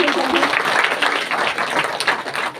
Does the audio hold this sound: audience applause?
yes